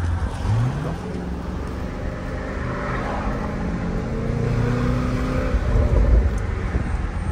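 A car engine rumbles steadily with a deep, throaty exhaust, resonators removed leaving only catalytic converters and final silencers, rising slightly in revs toward the end, no other sounds over it.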